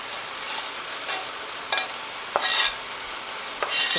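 Chicken and vegetables stir-fry in a hot pan, a steady sizzle broken by several louder bursts of hissing and scraping as the food is tossed and stirred.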